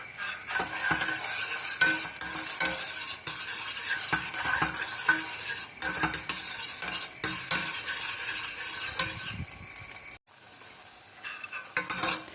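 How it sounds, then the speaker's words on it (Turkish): Tomato paste sautéing in about three tablespoons of vegetable oil for a green lentil soup with barley vermicelli: a steady close sizzle with repeated spoon scrapes and clinks against the pot, briefly dipping near the end. "3 yemek kaşığı kadar da sıvı yağ ilave edip salçamı kavurdum"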